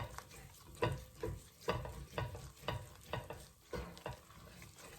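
Flour roux cooks in a pan as a utensil stirs it, a soft sizzle broken by regular scraping strokes roughly every half second, close and quiet, with no talking.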